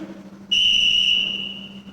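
A sharp whistle blast is blown once to call a group to attention, a bright, steady shrill tone with a faint buzzing edge that holds for about a second and then fades slowly.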